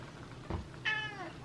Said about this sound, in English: You're meowing at me today for food, haven't you, mister?